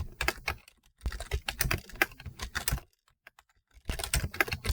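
Rapid typing on a computer keyboard, with dense bursts of close, crisp key clicks, a brief pause, then more quick keystrokes at the end.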